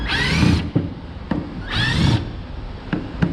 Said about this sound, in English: I will take a 1/4 inch impact and pull them out.